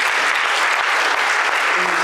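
A church congregation at a Dunamis service gives a big round of applause, a dense, loud, continuous wash of hand claps filling the room for a couple of seconds.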